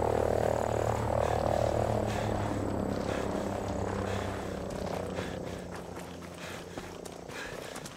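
A helicopter in a video game gives off a loud, steady low rotor drone with broad engine roar that eases slightly over time, while scattered small clicks and game noises sit on top.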